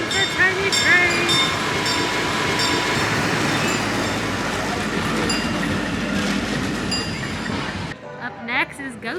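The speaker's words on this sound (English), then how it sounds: "Here comes the tiny train." A small amusement park train rolls past at Knott's Berry Farm, its wheels clattering over rail joints in a steady, fairly loud run with metallic squeals, while people talk nearby; the sound drops off sharply near the end.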